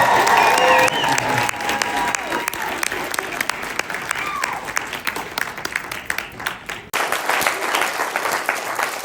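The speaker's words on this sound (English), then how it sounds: "Give him another round of applause." Large audience at a motivational speaking event breaking into loud, sustained applause with some cheering, dense clapping that briefly dips near the end and then surges again.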